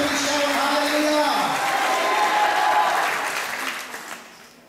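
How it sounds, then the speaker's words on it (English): A church congregation applauds during a service. Loud, full clapping mixed with crowd voices holds steady, then fades away over the last couple of seconds. "Give us a best round of applause."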